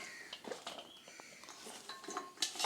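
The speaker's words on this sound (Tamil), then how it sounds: "இப்போ நம்ம கட் பண்ணி வச்சுருக்கேன் வெண்டைக்காயும் கொஞ்சம் கொஞ்சம் இதெல்லாம் சேர்த்து கலந்துடலாம்" Cut okra tossed with garlic and spices in a bowl for a fried okra dish, producing faint, quiet clinks and soft scraping taps of a utensil against the bowl, scattered and irregular, close by.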